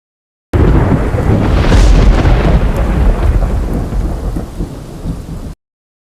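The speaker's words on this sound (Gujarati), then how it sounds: "સાંબેલાધાર વરસાદ વરસતા" Heavy monsoon downpour in Gujarat with a deep rolling thunderclap, a loud, close rumble swelling early then slowly fading beneath a steady roar of rain, no voices.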